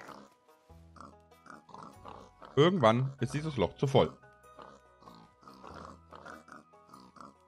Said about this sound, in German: Ich fange jetzt mal an mit den Schweinen hier und wir hauen da einfach Schweine rein.